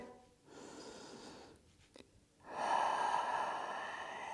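Close, soft breathing during a gentle vinyasa hip and hamstring stretch, with a nasal inhale, a pause, then a long, audible exhale, alone without talking.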